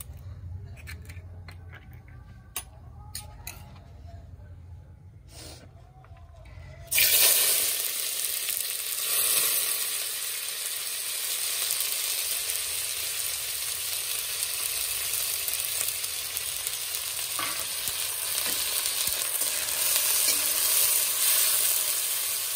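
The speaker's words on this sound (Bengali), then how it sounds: "তেলটাও গরম হয়ে গেছে। পেঁয়াজ লঙ্কাটা ভাজা বসিয়ে দিয়ে তারপরে হচ্ছে ডিমটা ভাজবো।" Onion and chilli hit hot oil with a sudden loud hiss about seven seconds in, then sizzle steadily and close up until the end, after a quieter stretch of faint kitchen clatter.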